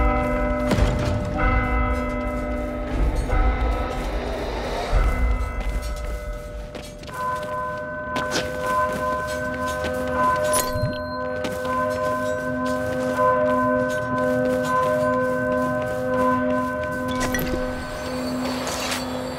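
A church bell rings in the video game Warhammer: Vermintide 2, with loud resonant strikes and a long sustained hum, mixed with mechanical creaks and clanks of the bell mechanism.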